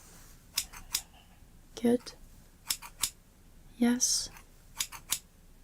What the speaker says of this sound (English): Close your eyes and tell me what side you can hear the scissors on.